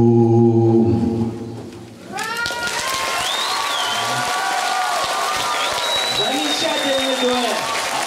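An audience breaks into loud, sustained applause with some cheering after a sung duet in a concert hall, following the last notes of music, with people talking over the clapping.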